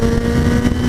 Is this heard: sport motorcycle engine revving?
yes